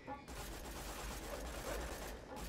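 Gunfire from the Dahl Last Scow in a video game, a continuous rapid stream of shots with extra projectiles, steady and fairly loud throughout.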